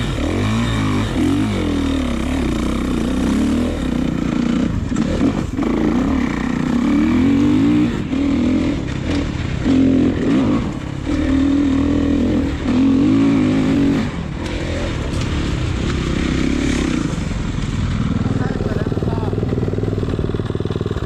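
A two-stroke motocross bike engine revs loudly and close on a track, its pitch repeatedly rising and falling, with people talking over it.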